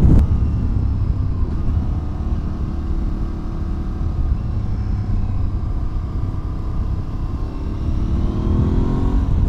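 An Aprilia Tuareg 660 motorcycle cruises on a motorway, its steady engine drone mixed with heavy wind rush, loud and continuous with gradual pitch shifts and no talking.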